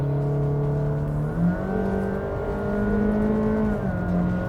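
A Honda City Hatchback RS with a CVT accelerating, the engine holding a steady drone whose pitch rises smoothly and then stays level; a continuous, close, moderately loud hum heard alone, without talk.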